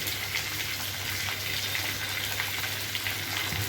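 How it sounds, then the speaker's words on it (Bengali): Potato and eggplant pieces frying with salt in a pan give off a steady, even sizzle that holds at a moderate level throughout, with no one talking. "এখন এটা একটু ভাজা ভাজা হবে"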